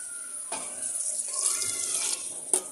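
Carnation evaporated milk is poured into a seafood broth, making a steady liquid pour with a couple of brief splashy bumps, fairly quiet and with no one speaking.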